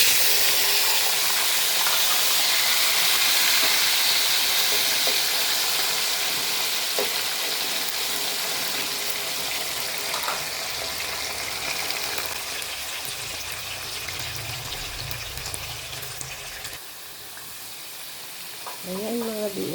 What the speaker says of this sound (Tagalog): iprito muna natin yung ating patatas